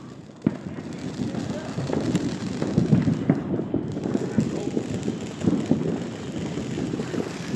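Fourth of July fireworks going off outdoors: a sharp bang near the start, then a crackling, popping stream of bursts at moderate distance, with people talking nearby.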